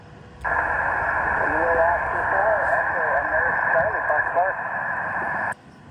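Amateur radio reception during a parks-on-the-air session: a faint, hissy, band-limited voice from a park-to-park station comes through static for several seconds, then cuts off abruptly.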